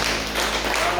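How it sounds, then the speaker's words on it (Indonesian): A church congregation claps together in a dense, loud burst of applause for a brief moment, close and continuous. "Tepuk tangan untuk Tuhan."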